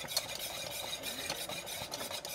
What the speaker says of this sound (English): Keep stirring that.